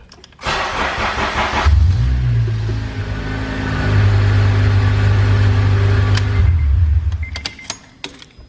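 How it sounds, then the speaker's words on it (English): A Honda-engined Acura TSX cranks with a whirring starter after an ECU install, catches and settles into a steady idle, then shuts off, followed by a few light clicks. "Now the car should start."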